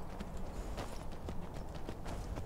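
Hooves of a horse clip-clopping in the video game Skyrim, a steady trotting patter of soft knocks running throughout at moderate level over a busy game background.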